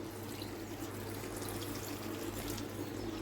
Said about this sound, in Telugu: ఇప్పుడు కొద్దిగా వాటర్ ఇవ్వండి ఒక రెండు టీ గ్లాసులు